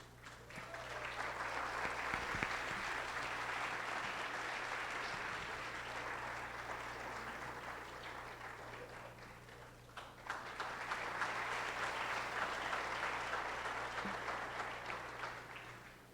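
A prizegiving audience applauds the Fatima College Choir with sustained clapping from a large crowd, steady and fairly distant, dipping briefly midway before swelling again, with no voices over it.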